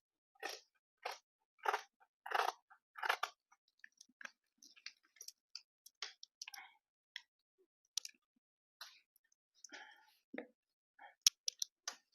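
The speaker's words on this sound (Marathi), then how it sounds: "हे जे बाहेरचं मार्जिन आहे शिलाई मार्जिन त्या लाईन वरूनच कट करून घ्यायचं" Scissors cut kurti fabric along the stitching margin, producing a series of quiet, close snips and clicks in irregular bursts against near silence.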